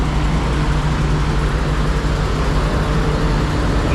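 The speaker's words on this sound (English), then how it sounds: "This truck is doing a regen over here." A semi truck running an exhaust regeneration nearby, a steady loud broadband engine roar and hiss with a low droning hum, continuous and unchanging throughout.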